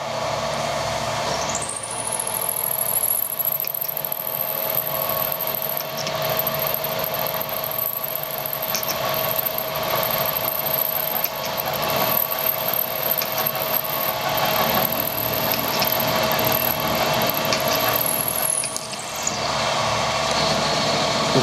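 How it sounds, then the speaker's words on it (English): A carbide milling cutter runs through soft material, cutting a 10mm deep slot with WD-40 as lubricant, producing a steady high whine with a constant machine hum beneath that holds evenly before cutting off near the end. "I'll try and go straight through this and put a slot straight through it"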